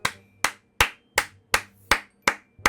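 Rhythmic in-game clapping in the video game Valorant: seven sharp, evenly spaced claps, loud and close, with no talking.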